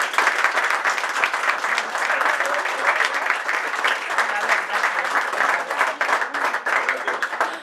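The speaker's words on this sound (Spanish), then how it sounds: "Pido por lo tanto un fuerte aplauso como merece don Juan Benito Rodríguez y Manzanares." Warm, sustained applause from a seated audience at an awards ceremony and international congress, many hands clapping densely and steadily throughout, fairly loud and close with no one speaking over it.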